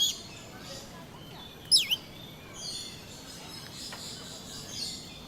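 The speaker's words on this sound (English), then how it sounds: "here we are saying hello to some rainbow lorikeets in the lorikeet enclosure" Rainbow lorikeets in a zoo enclosure in Singapore give a sharp, sudden chirp followed by a second quick squeak, with fainter twitters scattered over a steady hum of background noise.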